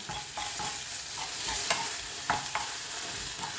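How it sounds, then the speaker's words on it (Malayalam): Fenugreek powder and asafoetida stirred in hot oil in a pan for sambar, giving a soft steady sizzle with a few sharp scraping clicks from the stirring, alone and without talk. "കായം 1 ടീസ്പൂൺ ഇട്ട് കൊടുക്കുക. ഇതെല്ലാം കൂടി ഒന്ന് ഇളക്കാം."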